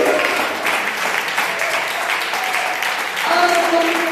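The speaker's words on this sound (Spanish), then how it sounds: "Aleluya, denle un aplauso al Señor" A church congregation at a Spanish-language sermon applauds steadily, a dense, continuous wash of many hands clapping together, loud and full throughout, with faint voices and a tone rising underneath toward the end.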